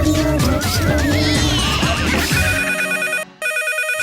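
A telephone rings with a repeating electronic ringtone pattern, loud and up front over a busy radio comedy studio mix of music and effects, which drops out briefly before the ring resumes.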